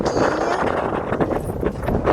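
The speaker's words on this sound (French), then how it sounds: "il y a du vent ici" Steady wind rushes across the microphone with low rumbling buffets, constant and fairly loud throughout, outdoors at a viewpoint in Provence facing the Luberon and Avignon.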